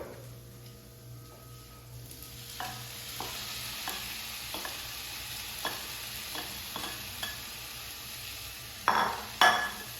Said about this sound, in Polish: Spokojnym, jednostajnym ruchem mieszamy wszystkie składniki na patent.